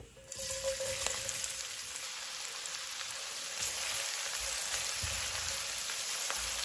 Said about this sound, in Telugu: ఇప్పుడు చూడండి ఆనియన్స్ అది బాగా ఫ్రై అయ్యాయి